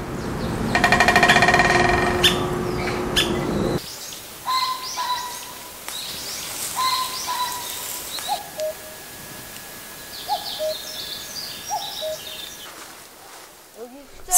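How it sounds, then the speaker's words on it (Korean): A woodpecker drums on a tree in a rapid, rattling burst for a few seconds, then stops; afterward scattered birds call and chirp in a quiet forest. "이거 딱따구리요."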